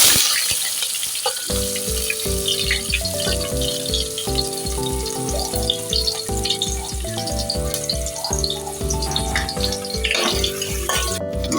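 Onions sizzle steadily in hot oil with mustard seeds, a crackling, bubbling frying sound that runs continuously beneath prominent rhythmic background music.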